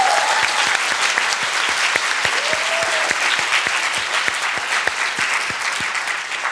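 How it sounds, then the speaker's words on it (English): Audience applause after a keynote tribute at a Berkeley Haas women-in-leadership event, dense steady clapping from a sizable crowd sustained at even loudness throughout, close and full, with no talking over it. "It's all just a small round of applause for Kelly."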